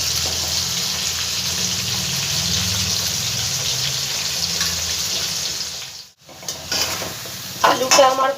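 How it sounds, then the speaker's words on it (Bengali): Potatoes with turmeric fry in a pan with a steady, close sizzle and scraping stirs, broken by a brief near-silence before louder clattering stirs near the end. "আলুটা একটু ভালো করে ভেজে নেবো আগে।"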